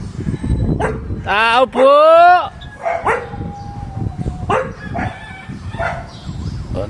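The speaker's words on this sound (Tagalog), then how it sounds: "Beware of dogs." Dogs bark outside a house during an electrical repair call: a few loud close woofs and yelps, mixed with people talking over and between the barks.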